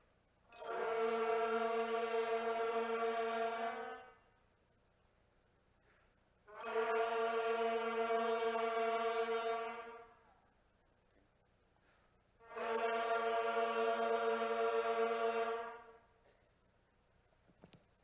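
Beginner band and string students at a winter concert play their first notes together: three long, sustained ensemble tones, each held about three seconds, separated by short silences.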